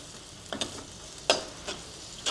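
Annatto oil hits a savory filling in a hot pan for Chinese-style bánh đúc, with a soft sizzle and a few close scraping stirs of a spatula.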